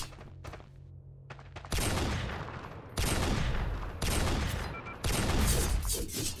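Video game gunfire in a competitive multiplayer match, with rapid automatic bursts that come in several loud volleys and break off between them, plus a few lighter thumps early on.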